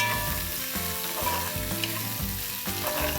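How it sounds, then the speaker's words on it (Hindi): Three long-sliced onions sizzle and fry steadily in a hot pan, browning with occasional stirring scrapes under a constant crackle. "ये मैंने 3 लंबे कटे हुए प्याज डाले हैं। इसे अच्छा से ब्राउन कर लेते हैं।"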